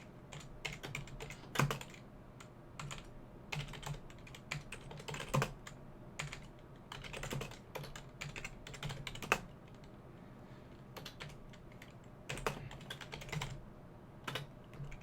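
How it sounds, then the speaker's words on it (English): Someone types on a computer keyboard in irregular bursts of clicking keystrokes with short pauses between them, close and fairly quiet, with no talking. "Now I have to type all that again."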